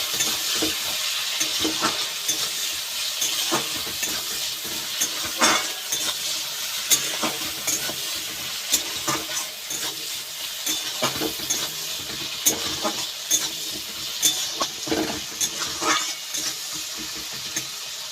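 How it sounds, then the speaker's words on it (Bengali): Tomato and chopped onion fry in fish oil for a Bengali puti fish dish, with a steady sizzle under repeated stirring clinks and scrapes of a spatula in the pan, close and continuous with no talking. "টমেটো আর পেঁয়াজটা ভালো করে ভাজা ভাজা করে নেব।"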